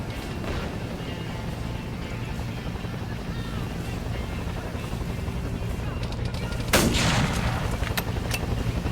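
Gunfire from the Arma 3 Vietnam-era combat game, a dense, constant rumble of distant shots and battle noise, with one louder close burst near the end.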